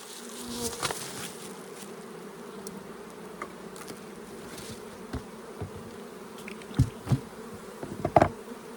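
A steady, dense buzz of many honey bees droning together inside an indoor hive, with a few sharper knocks and rustles near the end.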